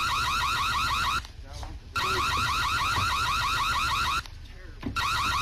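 An alarm blares in loud, rapidly repeating pulsed bursts, cutting out twice for brief gaps of quieter background before resuming at full strength.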